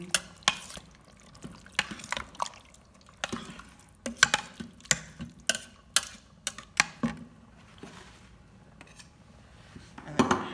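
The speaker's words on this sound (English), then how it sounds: "Mix that in" A spoon stirs tomato sauce into chili in a pot, giving a series of wet, scraping strokes and sharp knocks against the pot at an irregular pace with quiet gaps between them.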